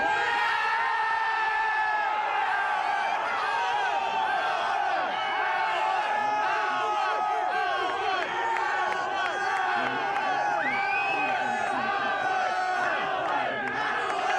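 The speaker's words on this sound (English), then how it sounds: "let me hear the crowd yell stuff" A crowd at an FCC protest rally yells, whoops and cheers nonstop, many overlapping shouting voices forming a loud sustained roar that lasts the full length.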